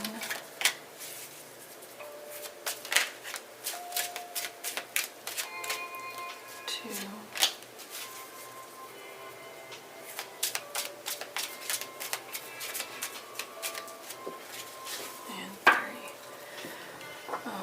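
Tarot cards being shuffled by hand during a reading, giving a steady run of soft, quiet flicking and tapping clicks that go on alone throughout, with no one speaking.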